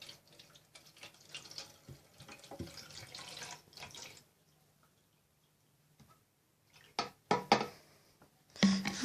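Rested water pours from a bottle into a small tank for raising gammarids, a gurgling splashing stream that pauses and then returns in louder glugging bursts, close by.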